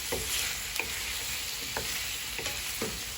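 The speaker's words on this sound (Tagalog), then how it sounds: "Gisa lang natin ng konti" Boiled pork sautéing in a pan, a steady sizzle under repeated scraping strokes of a spatula, about five stirs at a regular pace, close and clear.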